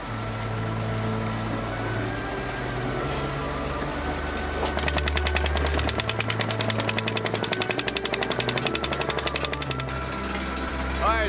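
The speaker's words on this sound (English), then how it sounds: "we're drilling a well for water" Well-drilling rig boring for water in a rural Zambian village, a heavy rumbling engine drone that turns into a loud, rapid hammering percussion partway through, with voices faintly mixed in.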